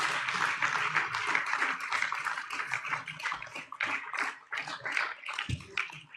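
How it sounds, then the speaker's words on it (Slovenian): A crowd at a party congress breaks into sustained applause: dense, continuous clapping with some voices mixed in underneath. "En velik aplavz vsem tistim, ki niso bili izvoljeni"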